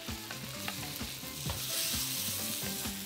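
Chilli paste sizzles steadily in hot oil in a pan for Malaysian chilli pan mee, with repeated scraping stir strokes over a constant close frying hiss.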